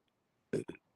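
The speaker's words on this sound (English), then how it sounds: "I'm burping." A short double burp after eating quiche, two quick close eructations in about a quarter second, loud against an otherwise quiet background.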